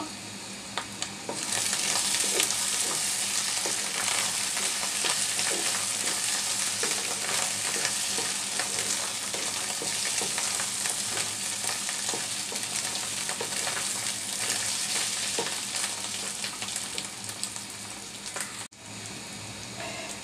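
Fish roe fries in a pan with five sliced green chillies, giving a loud, continuous crackling sizzle that holds steady for about twenty seconds, close up with no talking.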